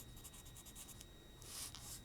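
Pen writing on paper in a statistics lesson, quick faint scratchy strokes in a short run, then a slightly louder rubbing stroke, close and quiet.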